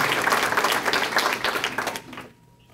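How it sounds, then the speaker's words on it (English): An audience at a GPD awards banquet claps steadily in a dense, sustained round of applause that fades out near the end, filling the room with no talk over it. "Your guys' hands are going to be tired by the end of this if you keep clapping"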